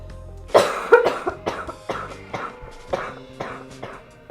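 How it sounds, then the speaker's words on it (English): A series of about eight coughs in a rough rhythm, fairly close, some harsh and some softer, with faint background noise between them. "I'm trying not to cough out into the open."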